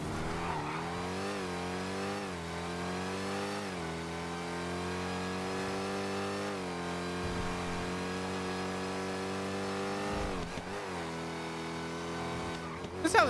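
A racing car engine in the video game GTA V roleplay (NoPixel 4.0) drones steadily, its pitch rising and dropping through gear shifts, with faint talk beneath.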